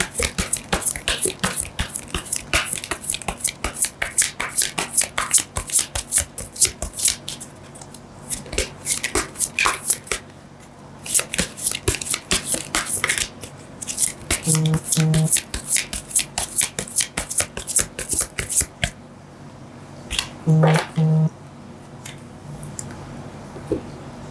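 Tarot cards being shuffled by hand, a long run of dense, crisp riffling and flicking with brief pauses and a few soft taps, close and fairly loud.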